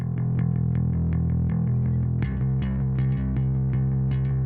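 A buzzy, droning synth bass plays a repeating pattern of short notes, thick and humming in the low end, with nothing else playing.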